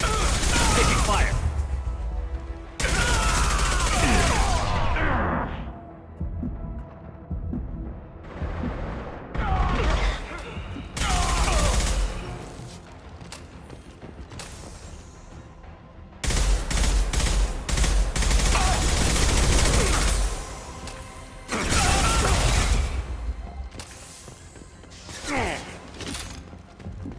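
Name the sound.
gunfire in the video game Mass Effect 2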